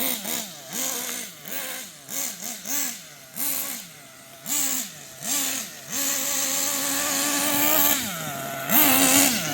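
A Kyosho USA-1 RC truck's small nitro engine runs rich, revving in short repeated blips of rising and falling pitch, then holding a longer rough, buzzy rev, loud and close.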